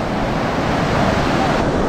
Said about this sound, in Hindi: अभी एक बड़ी लहर आ रही है